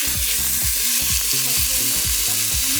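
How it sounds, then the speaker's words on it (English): A rib eye steak searing in a hot pan, a loud continuous sizzle and crackle heard up close and steady throughout, with no talk. "Don't touch it because you want a proper sear."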